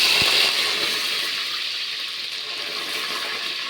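Green chillies dropped into hot oil with fried mustard seeds, giving a loud, steady hiss and crackle that fades slightly over a few seconds, with a brief thump near the start.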